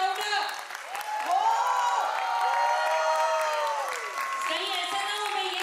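An audience at a preschool annual concert cheers loudly and continuously, with high whoops and shouts rising and falling over a sustained crowd roar and some clapping.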